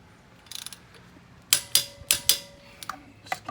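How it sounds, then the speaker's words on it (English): A torque wrench tightens lug nuts on a steel wheel of a Ram Promaster City, with a few soft clicks early, then four sharp, close ratcheting clicks in quick succession and a couple of lighter taps after. "so I set my torque wrench for 63 pounds."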